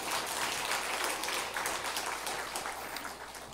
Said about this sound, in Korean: 일단 박수 한번 쳐주고